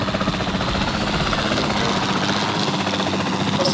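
A capture team helicopter in a dinosaur video game flies with a loud, steady rotor chop throughout, under occasional speech.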